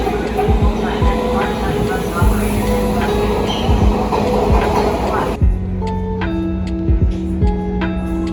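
Train at a station, with a low rumble and rhythmic clanks and squeals from the wheels, then a quieter stretch of steady tonal hums and clicks as it slows or idles, with voices in the background.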